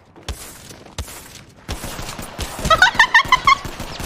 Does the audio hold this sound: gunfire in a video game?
yes